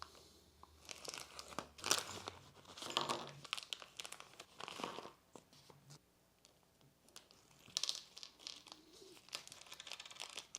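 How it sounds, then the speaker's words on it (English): A plastic parts bag from a GFRP Assault RC sprint car kit is torn open and handled nearby, producing crinkling rustles and tearing bursts. A faint bird coos in the background. "we're going to need to open up bag E"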